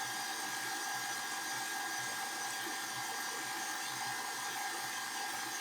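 A stand mixer whirs steadily as it beats carrot cake batter, a constant high-pitched motor drone with a low churning rumble underneath, loud and close throughout with no talking.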